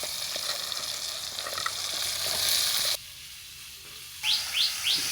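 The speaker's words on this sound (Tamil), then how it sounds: "வட்டு கத்திரிக்காயை போடுறோம்" Eggplant slices fry in a pan with curry leaves and chili in a village kitchen, giving a steady close sizzle that suddenly drops away, then birds chirp a few times outdoors.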